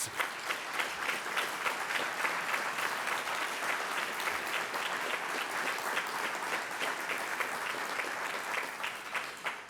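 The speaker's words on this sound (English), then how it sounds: "let us give you a round of applause, the donors to this building" Sustained applause from an audience at a building dedication honouring its donors, dense steady clapping filling the room for the whole stretch with no talk over it.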